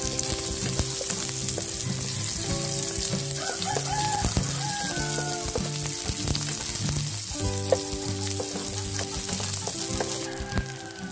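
Garlic and then onion sizzling in hot oil in a pan as the base for a provincial chicken estofado, a steady loud frying hiss with occasional stirring clinks and a rooster crowing faintly in the background.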